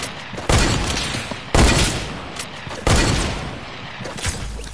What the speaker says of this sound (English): It's hunting rifle.